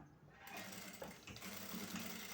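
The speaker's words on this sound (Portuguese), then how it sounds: "Posso aproveitar para costurar por dentro, que é para ter uma melhor visão." Sewing machine stitching baby bath diaper fabric through two layers of diaper cloth plus fabric, a steady fast mechanical whir starting after a brief pause, close and fairly quiet.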